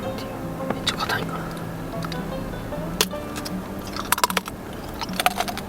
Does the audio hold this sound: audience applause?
no